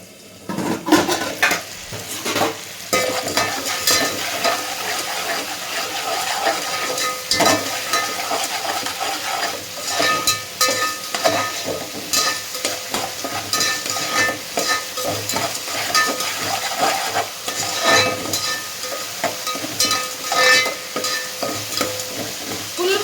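Continuous sizzling from a hot pan mixes with repeated scraping and clinking as chicken masala popcorn is stirred, busy and close, with no talking.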